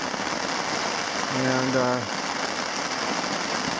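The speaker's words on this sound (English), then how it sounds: "I don't know if you can hear me over this rain on the tarp." Steady, dense rain patters loudly on a tarp overhead at a wilderness lake campsite, a constant hiss with a brief voice speaking underneath.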